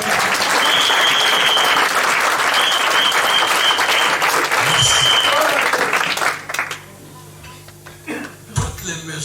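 A church congregation at a prophetic worship service bursts into loud, sustained applause and acclamation that fills most of the moment, then fades into quieter scattered claps and room noise.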